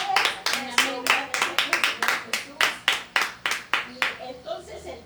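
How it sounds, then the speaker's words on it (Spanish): Church congregation clapping hands in a lively, rhythmic burst of sharp claps that loosens and fades near the end, heard on its own without talk. "Demos un fuerte aplauso a nuestro Dios para despertarnos."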